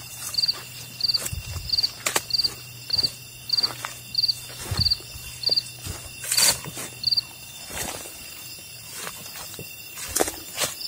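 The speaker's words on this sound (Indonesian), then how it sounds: "kalian dengar nggak suara jangkrik yang paling keras?" Repeated high-pitched cricket chirps pulse steadily in short bursts in a forest at night, with occasional rustles and soft footsteps nearby.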